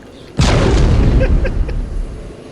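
A loud, sudden boom bursts out and rumbles on, decaying over a couple of seconds with faint crackles trailing through the tail.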